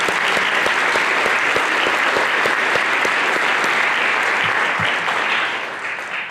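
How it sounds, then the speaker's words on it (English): An audience at a National Honor Society induction ceremony for high school students gives a strong, continuous round of applause that holds steady, then softens slightly near the end. "give a round of applause to all the students that are here tonight and their hard work"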